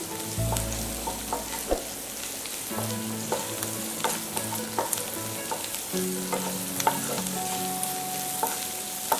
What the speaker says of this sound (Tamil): இப்போ இந்த வெஜிடபிள்ஸ் எல்லாம் வந்து கொஞ்சம் வதங்கிடுச்சு.